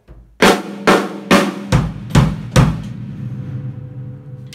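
Drum fill of three hand strokes followed by three bass drum kicks, six sharp evenly spaced hits, loud and close, ringing out briefly after the last kick with no talking.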